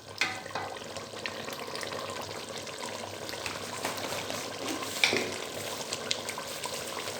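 Chicken cubes fry with spices in a pan for a restaurant-style chicken karahi, giving a steady sizzle with scraping from a spoon as it is stirred, close and even throughout.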